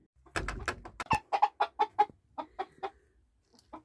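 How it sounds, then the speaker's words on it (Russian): Hens cluck close by in a quick series of short calls that thin out toward the end, with no talking. "Вот они, курочки."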